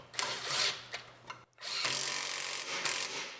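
A power tool whirs in two bursts, driving a nut and bolt tight on a new bracket during a GMC Terrain repair; a short pause splits a brief first run from a longer, steady second run, close and loud.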